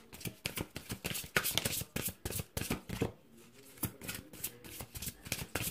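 A deck of tarot cards is shuffled and cut by hand, giving rapid rhythmic bursts of riffling flutter with a short pause midway before the shuffling resumes, close and crisp.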